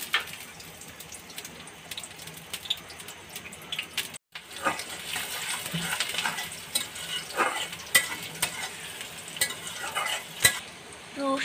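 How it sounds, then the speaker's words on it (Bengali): Chopped onion frying in hot oil, a loud crackling sizzle with stirring scrapes and clinks throughout, briefly cut off partway through, no speech. "এখন দিব পেঁয়াজ কুচি,"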